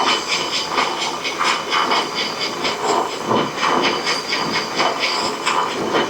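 A metal lathe spinning at about 300 to 400 RPM as a two-inch outside diameter is cut down by hand feed, producing a steady hiss with a rhythmic chattering pulse, close and fairly loud.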